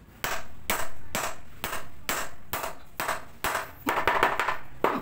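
A hammer drives a nail into dry wood for a slab chair, with about a dozen sharp, ringing strikes in a steady rhythm. The last few land closer together, all close up and loud, with no voices.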